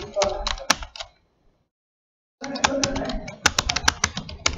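Rapid clicking keystrokes on a computer keyboard, with brisk irregular bursts before and after a short silent pause, close and fairly loud.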